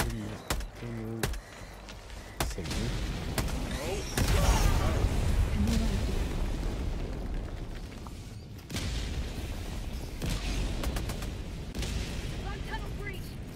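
Explosions and gunfire rumble through a chaotic Helldivers battle, with a sustained heavy blast roaring for several seconds, scattered sharp shots before and after, and players talking over the noise.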